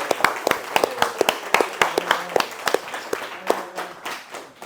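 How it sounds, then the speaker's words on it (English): A round of applause for class instructors at a gym promotions event: sharp individual claps ring out at an irregular pace, fairly close, with no talking over them. "I would love to give a big round of applause and thank you to our instructors, to Marco, to Matt, to Derek, to Tony."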